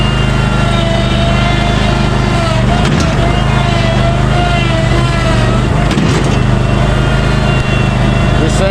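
A heavy-rear Kubota zero-turn mower's engine drones loud and close as the machine rolls forward and pops a wheelie, a steady roar with a few thumps and rattles, with a voice speaking over it.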